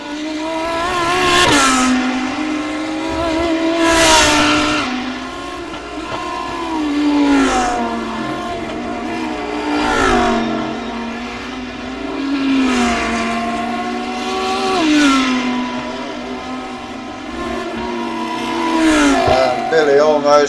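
GT3 race cars lapping in a sim racing game, their engines climbing through rising revs and dropping at each upshift or braking point in a repeating cycle, loud and close throughout.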